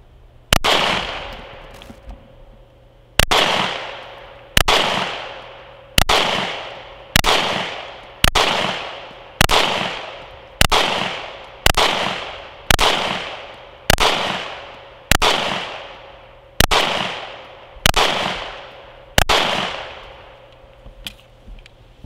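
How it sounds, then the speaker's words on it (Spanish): Sharp single gunshots from a CZ P10 C pistol ring out one after another at a steady, measured pace, about sixteen loud cracks, each with a short decaying echo and no talking. "Vamos a probar la pistola."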